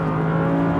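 An Audi R8 V10 engine revs hard on a race track, a loud, steady, tonal roar that holds high for under a second.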